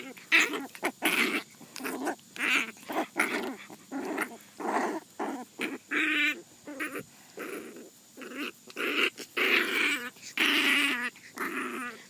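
A foster puppy growls and whimpers in a steady run of short, close bursts, with small yips mixed in and no talking over it.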